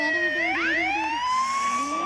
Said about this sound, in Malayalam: അത് പോലീസല്ല, ആംബുലൻസ് ആണ്.